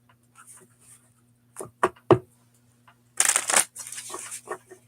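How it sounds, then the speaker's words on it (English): Playing cards are gathered and slid back into a deck, giving a few soft taps followed by a longer burst of crisp shuffling and rustling, close by with no talking. "We're just gonna put these cards back and not dig into that anymore."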